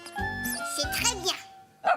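A cartoon puppy yaps in short bursts beneath a child's lively chatter and other voices, with a sharper bark near the end.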